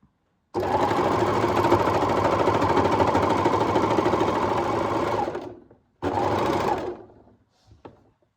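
A sewing machine stitches fabric while a lingerie piece is being made, running loud and steady for about five seconds, pausing briefly, then giving a shorter burst before stopping.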